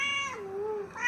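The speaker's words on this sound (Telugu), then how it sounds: "క్యాట్ వచ్చింది." A cat gives a single close meow, rising, dipping into a drawn-out middle and lifting again at the end, heard alone and fairly soft.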